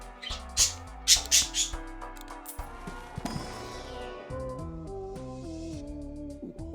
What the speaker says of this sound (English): Listen to the bird.